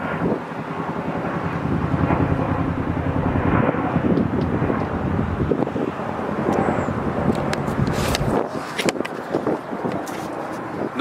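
A Chinook helicopter passes overhead as a loud, continuous low rotor roar that builds and holds for several seconds, with wind buffeting the microphone throughout and no talk.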